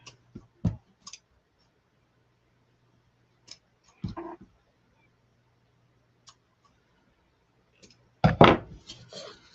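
Scissors snip decorative ribbon or tag trim in a few sparse, crisp clicks close by, separated by quiet gaps, ending in a short cluster of cuts and handling sounds.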